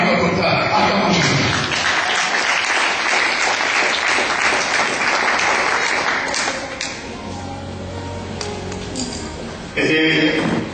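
A church congregation breaks into loud, sustained applause with cheering voices mixed in. It thins out partway through, then surges again briefly near the end.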